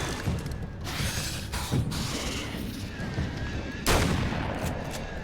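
Gunfire in the video game Alan Wake's American Nightmare, with a few scattered shots and one louder, sharper report standing out over a dense, noisy game soundscape of mechanical clatter.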